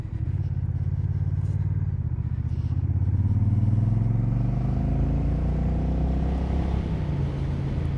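A 2021 Honda Rebel 1100 motorcycle accelerating on a test ride, a loud, steady engine roar climbing in pitch through the gears, close up and with no talking.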